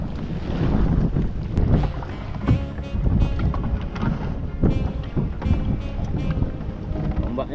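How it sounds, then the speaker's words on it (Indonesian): Big river waves slap and wash against a small boat out on the water, a continuous rough churning mixed with heavy wind buffeting the microphone, loud and close throughout. "gelombang besar nih teman-teman. besar banget ombaknya."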